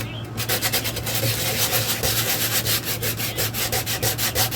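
A 1970s five-band radio is sanded by hand with medium grit sandpaper, a loud close rhythmic scrubbing in quick back-and-forth strokes that keeps going throughout over a low steady hum.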